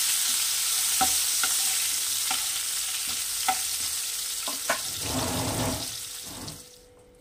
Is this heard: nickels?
no